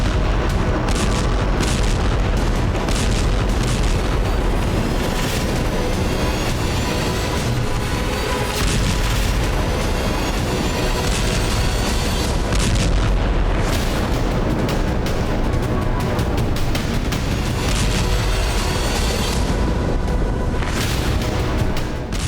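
Explosions and artillery fire during an attack on the port city of Sevastopol in Crimea, heard as a dense, continuous barrage of loud booms and bursts that overlap with no pauses.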